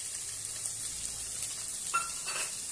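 Ginger, garlic, cinnamon, cloves and pepper frying in oil for a country-style chicken sambar, a steady soft sizzle with a few brief stirring scrapes, close and fairly quiet.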